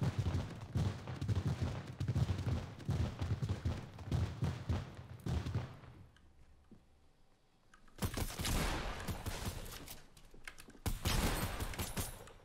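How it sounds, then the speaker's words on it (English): Rapid bursts of bottle rockets firing and popping in Fortnite, dense crackling volleys for several seconds, a lull, then more loud bursts returning. "He's throwing bottle rockets."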